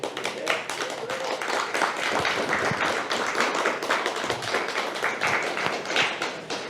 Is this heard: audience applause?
yes